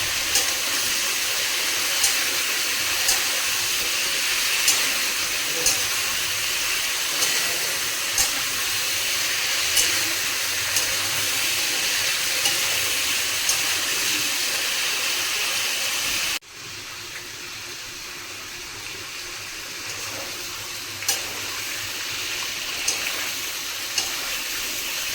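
Potatoes, green plantain and papaya with salt and turmeric fry in hot oil with a steady, close sizzling hiss and faint periodic ticks, dropping suddenly to a softer level partway through.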